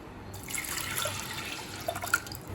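Water poured into a pot of roasted, washed moong dal for payasam, a soft splashing pour in a kitchen with a few drips and light clinks toward the end.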